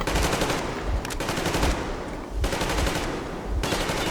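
Sustained automatic gunfire from the video game Metro Exodus, loud and close, coming in long rapid bursts separated by brief pauses.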